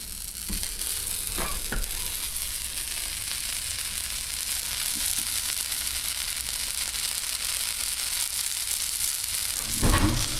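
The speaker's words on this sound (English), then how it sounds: "The butter is melting." Butter melts and sizzles in a pan, a steady, soft frying hiss throughout, broken by a few faint clinks and scrapes near the start and a louder clatter near the end.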